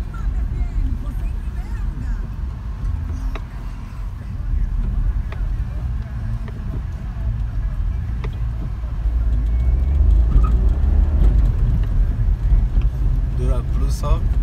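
A Volkswagen up! TSI on the road, a low steady engine and road rumble from inside the cabin that swells as it picks up speed, while someone talks over it throughout.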